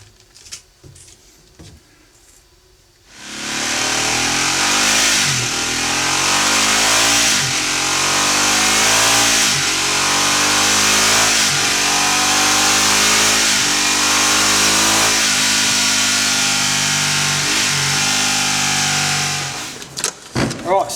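A 2010 Ducati Multistrada motorcycle fitted with an aftermarket muffler starts up after a quiet few seconds, then revs loudly and repeatedly, its engine note rising and falling in steady blips close by until it cuts off near the end.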